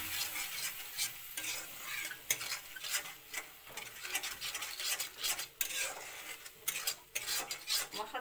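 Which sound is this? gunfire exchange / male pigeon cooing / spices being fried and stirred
spices being fried and stirred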